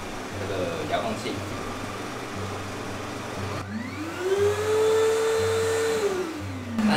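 A dust extractor with a 4-metre hose, used for ceiling carpentry in a bathroom renovation, drones steadily, then its motor audibly spins up to a higher, louder whine partway through. A voice speaks over the drone.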